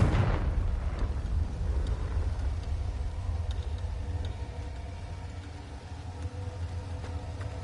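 Confringo blasting spell explosion in a Harry Potter video game, a loud booming burst at the start followed by a long rumbling low roar that slowly fades, with faint chimes above.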